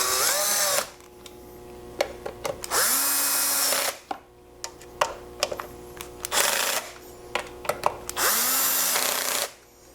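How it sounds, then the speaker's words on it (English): A power tool tightens the top bolts on an Earthquake 43cc auger in several loud, close, buzzing bursts of differing length, separated by quieter gaps with small clicks. "And tighten the top bolts down to torque."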